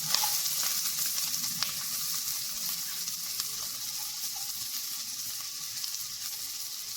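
Chopped capsicum, carrot and onion sizzle steadily in a hot pan with a little ginger, a constant bright hiss with occasional crackles and faint stirring, close and unbroken without any talk.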